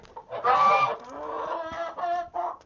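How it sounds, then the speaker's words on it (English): Chickens in a coop give close, honking clucks and squawks, several calls in quick succession, clear against a quiet background. "Come here, chickens."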